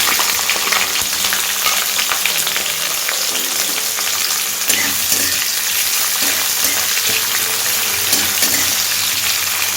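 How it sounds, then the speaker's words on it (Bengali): Chopped onion frying in hot oil with whole spices for a Bengali ridge gourd bharta, a steady dense sizzle with occasional stirring clicks, close and continuous throughout. "পেঁয়াজটাকে একটু সফট হওয়া পর্যন্ত ভেজে নেব।"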